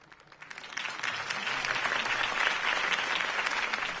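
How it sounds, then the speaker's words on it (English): Crowd applause after a campaign speech in a Batman video game, swelling in from quiet within a second into steady, dense clapping that carries on loudly to the end. "If only Mr. Wayne, my campaign's largest backer, could have heard that applause"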